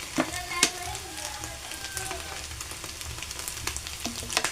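Fried rice sizzles in a pan with soy sauce and chilli sauce, a dense steady frying hiss broken by a couple of sharp clinks and spatula scrapes, up close with no talk.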